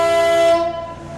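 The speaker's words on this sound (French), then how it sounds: "Tu pourrais prévenir quand tu klaxonnes" A horn sounds from a boat cruising the Canal du Midi near the Fonséranes locks: one loud, sustained tonal blast that fades after about half a second, heard alone with no talk.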